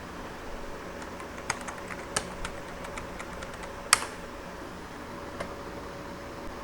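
Keystrokes on a computer keyboard while a password is typed at a login screen, a sparse run of light, irregular clicks with one sharper tap near the middle, faint against low room hiss.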